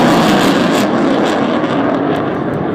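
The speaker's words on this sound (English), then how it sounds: "how much force is pushing that jet through" RAF Eurofighter Typhoon jet flying at the Scottish Air Show 2015, a loud continuous roar that stays close and fills the whole clip, with no talk over it.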